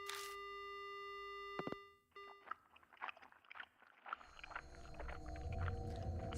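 A steady electronic telephone dial tone from the horror game Death Mark holds for about a second and a half, then cuts off abruptly and gives way to scattered quieter rustling and noise.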